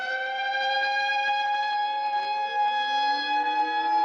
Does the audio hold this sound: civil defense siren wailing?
yes